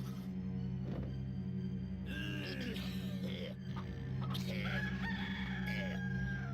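A rooster crows in the Discworld II adventure game, its call rising clearly over a steady, busy game soundtrack with a low hum, a couple of bright crowing phrases in the latter half.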